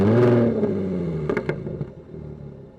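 The exhaust of a 2014 Jaguar F-Type 3.0 V6 S automatic revs loudly, then the engine note falls away into a lower idle with a few sharp pops.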